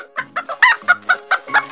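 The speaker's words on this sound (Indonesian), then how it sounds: "Ada sepuluh ayam." Several chickens cluck in a quick, evenly spaced series of close, loud calls with short gaps between them, and no voices are heard.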